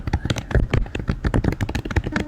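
Fingers tap rapidly on a computer keyboard in an uneven stream of crisp, close keystrokes, with no speech.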